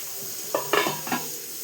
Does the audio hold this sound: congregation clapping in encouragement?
no